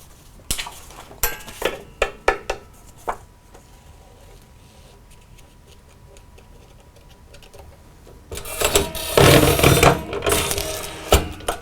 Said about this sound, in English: Bring down the taller lever, and I have my holes.